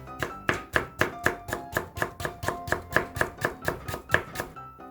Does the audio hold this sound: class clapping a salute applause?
no